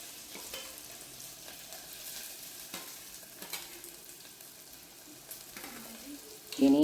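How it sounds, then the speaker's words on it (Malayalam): Chopped shallots and ginger sauté in a hot pan for a Kerala-style clam stir-fry, giving a steady close sizzle with occasional stirring scrapes and a louder burst near the end. "ഇനി ചുവന്നുള്ളി ഒന്ന് വഴറ്റുക, ഒന്ന് കളറ് മാറുന്ന വരുന്ന വഴറ്റുക."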